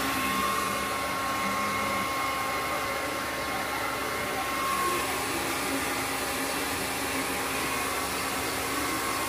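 A blower pushes air to clear water from a motorcycle while a sticker is applied, giving a steady, loud broadband whoosh with an even level and no breaks for the whole stretch.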